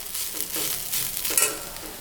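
Steady sizzling of beetroot frying in a pan for chutney, with soft scraping as it is stirred.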